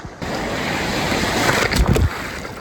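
Ocean surf breaks at Sherwood Beach on Oahu's east shore, a loud close wash of whitewater with a stronger surge and splash near the end, no talking heard.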